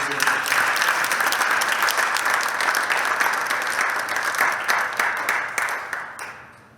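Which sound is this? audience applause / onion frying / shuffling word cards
audience applause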